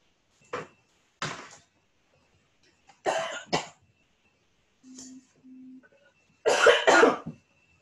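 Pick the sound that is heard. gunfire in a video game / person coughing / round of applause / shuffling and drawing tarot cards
person coughing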